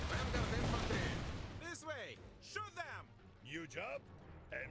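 Bursts of gunfire and explosions from the real-time strategy video game Iron Harvest rumble beneath the talk, with a heavy opening burst fading into scattered thuds as someone speaks over the action.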